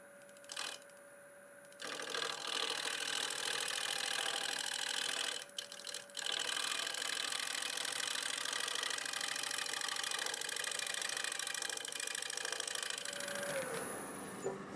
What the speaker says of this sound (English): I'll switch to a different 1/2-inch bowl gouge.